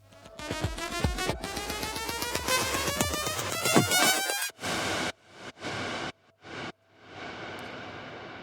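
A stretched circuit-bent noise sample sweeps upward in pitch for about four seconds, dense and buzzing, then breaks into several short, separated noise bursts trailing off, heard alone without any voices.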